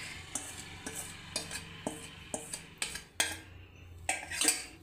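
A spoon stirs soaked fenugreek into hot oil and jaggery in a pan off the heat, giving close, repeated scraping clinks against metal in an irregular rhythm, with no talk.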